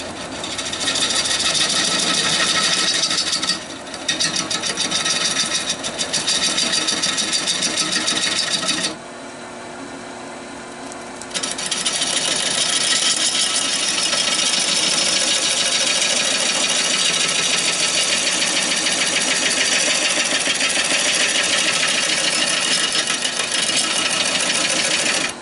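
A wood lathe turning a walnut blank while cuts are smoothed, giving a loud, steady whirring with a scraping tool rasp that persists throughout, dipping briefly to a quieter hum partway before resuming at full strength.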